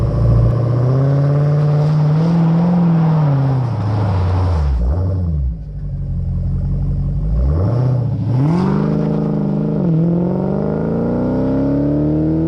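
A 2019 Dodge Challenger SRT Hellcat Redeye accelerates hard, its engine climbing loudly through rising pitches with two or three brief dips at gear changes, heard up close with no talking.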